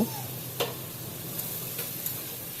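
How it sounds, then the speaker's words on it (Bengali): Chicken pieces and potatoes sizzle in a pan during a curry, giving a steady soft frying hiss broken by a few sharp utensil scrapes and taps from stirring. "ওই দিয়ে দিলাম আলু, এখন ভালো মতো কষিয়ে নিব।"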